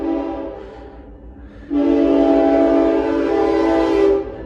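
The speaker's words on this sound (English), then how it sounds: "that's the train coming through the middle of Jonesboro" A train passing through the middle of Jonesboro sounds its horn, a loud sustained blast that swells in and holds over the rumble of rail cars before cutting off.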